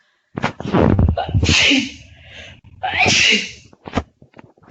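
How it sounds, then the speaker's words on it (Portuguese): One person sneezes loudly up close, two forceful bursts with sharp breaths between them, followed by a few soft breathy sounds. "tive que espirrar aqui, não teve jeito"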